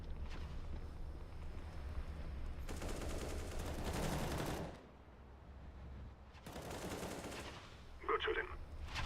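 Automatic weapon fire in the video game Counter-Strike: Global Offensive, sustained bursts of rapid shots that stop and start with short gaps, heard under a live esports match broadcast.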